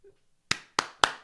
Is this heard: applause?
yes